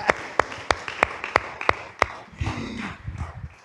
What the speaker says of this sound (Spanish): Démosle un aplauso a Jesús y al hermano ustedes